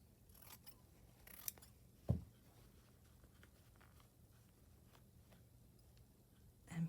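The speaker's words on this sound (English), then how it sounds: "I will trim this off." Scissors trim a small piece of blue and white fabric for a stitched needle book with a few faint, quiet snips and one sharper cut, in a nearly silent room.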